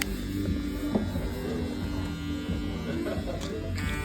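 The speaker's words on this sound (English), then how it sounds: "Now that I'm done fading with my FX1 clipper" An FX1 electric hair clipper buzzes steadily and close up during a high skin fade haircut, a continuous motor hum with faint handling clicks and no speech.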